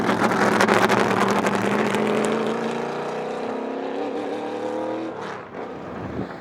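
A NASCAR race car is driven around a drift pad to warm its tyres, its engine a loud sustained roar that rises and falls in pitch, heard from a distance and fading toward the end.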